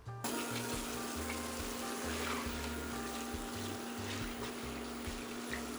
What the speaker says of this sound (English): We are going to fry up the shrimp for 3 to 4 minutes.